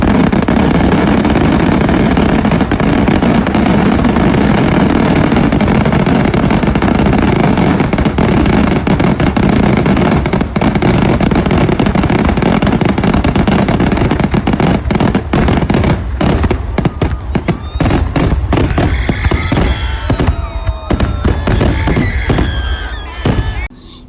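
Fireworks at the Koottanad Amakkavu Pooram temple festival in Kerala: a dense, loud, continuous barrage of explosions that breaks into separate sharp bangs and crackling bursts toward the end.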